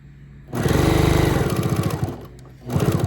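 A sewing machine stitches along a fabric edge for a fast, loud, rhythmic mechanical whir that runs for about a second and a half, stops briefly, then starts again.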